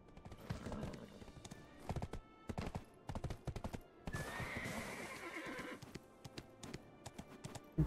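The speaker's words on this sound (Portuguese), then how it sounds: "Não precisa subir no cavalo." Hooves clip-clop in a quick, uneven rhythm close by, with a horse's whinny rising in the middle, against a faint background, in the video game Black Desert.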